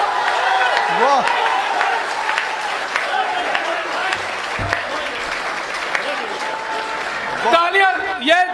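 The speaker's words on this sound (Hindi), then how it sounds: "तालियां" Audience claps and cheers at a public speech, a dense crowd applause running throughout with voices and shouts mixed in, rising toward the end.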